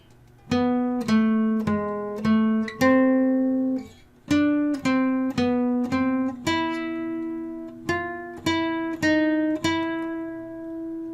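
A clean guitar plays a short melody of single picked notes, about a dozen in steady rhythm, each ringing briefly before the next, close and clear.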